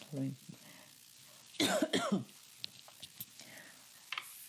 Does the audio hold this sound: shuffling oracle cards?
no